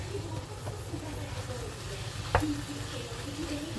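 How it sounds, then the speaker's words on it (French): Meat seasoned with curry and parsley sizzles and fries in a pan, a steady faint crackle throughout with one sharp clink of a utensil midway. "on laisse cuire la viande. La viande, faut qu'elle grille."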